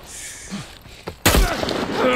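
Gunfire in The Last of Us Part 1 erupts as a sudden loud burst of shots and booms after quieter game sounds and a brief voice, the shooting continuing close and heavy to the end.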